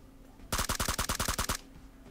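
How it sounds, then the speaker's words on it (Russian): Automatic gunfire in PUBG Mobile's Metro Royale mode, a loud, close burst of about ten rapid, evenly spaced shots lasting roughly a second, with a quiet game background before and after. "я не теми патронами стреляю"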